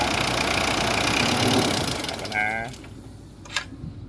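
A 2012 Mitsubishi Pajero Sport 2.5 GT automatic idles steadily with a broad, even engine rumble that fades in its second half, with someone talking nearby.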